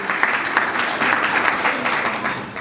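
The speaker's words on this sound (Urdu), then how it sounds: "تو ٹیچرز کے لیے تالیاں بجائیں" An audience at a Sunday church gathering applauds the teachers with steady, dense clapping that stays loud and close throughout.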